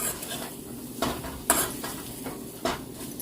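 A spoon stirring dried fish stir-fry with onions in a hot pan, giving a few clanks and scrapes on the metal over a soft continuous sizzle, no talking.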